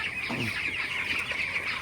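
Broiler chickens cluck softly among a dense, steady chorus of bird chatter, with no voices heard.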